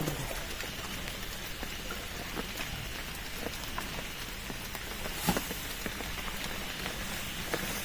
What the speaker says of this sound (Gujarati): વરસાદ